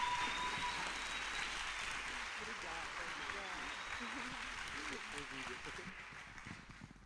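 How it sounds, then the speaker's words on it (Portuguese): Audience applause at an education event, a steady wash of many hands clapping that gradually fades toward the end, with voices and chatter audible underneath. "Palmas para ela!"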